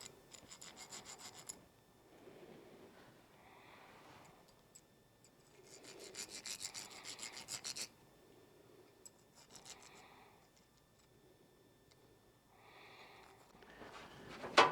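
A thread chaser being run through the bolt threads of a Mishimoto aluminum radiator for a Celica GT-S V8 swap, heard as repeated close raspy scraping strokes in bursts separated by short pauses.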